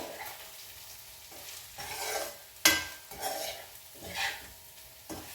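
Spices with coriander powder are stirred in a pan for a sweet potato curry, soft sizzling broken by several rhythmic scraping strokes and one sharp spoon clink, close and fairly quiet.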